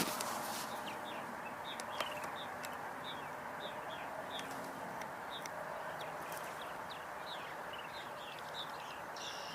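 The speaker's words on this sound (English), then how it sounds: "Just heard a red-winged blackbird." Repeated short, bright calls from a red-winged blackbird carry over a soft outdoor background, faint and somewhat distant, recurring at irregular intervals among other faint birdsong.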